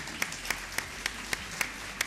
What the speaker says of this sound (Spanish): con el aplauso, por supuesto, del público presente